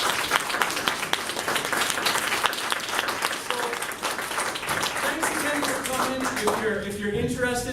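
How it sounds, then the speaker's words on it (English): Audience applause for participants at a school forensics showcase, a dense steady round of clapping that carries on to the end, with a voice starting to talk over it in the final seconds. "Let's keep another round of applause to all our participants."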